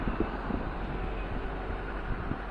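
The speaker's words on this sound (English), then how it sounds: "Dakhla is still pretty windy" Steady wind buffeting the microphone on the Dakhla peninsula in Western Sahara, a continuous low rumble with gusty bumps, heard alone with no voices.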